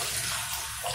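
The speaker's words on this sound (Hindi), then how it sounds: "इस टैप को आपने ये किया तो पानी जस्ट सेंटर से आएगा और इधर किया तो शार्प साइड में आएगा" Water runs from a water-saving kitchen tap nozzle into a sink, a brief, steady splashing hiss heard close up with no voices.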